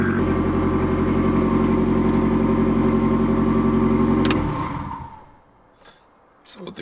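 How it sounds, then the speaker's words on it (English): A Toyota Starlet fitted with an SR20 engine rumbles loudly with a deep, steady tone up close, then the engine cuts and dies away, leaving near silence and faint rustling. "It's a very deep sound for such a small car."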